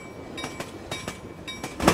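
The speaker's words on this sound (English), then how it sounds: "Another train just came through." A train in a video game passing close by, loud rhythmic clickety-clack bursts of wheels over rail joints repeating every half second, building to a heavier clatter at the end.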